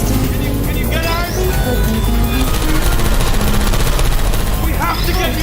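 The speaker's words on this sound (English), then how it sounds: "I heard gunfire!" Rapid bursts of gunfire crackle continuously in the video game Portal 2, over a loud, dense mix of engine rumble and music-like tones, with no pauses.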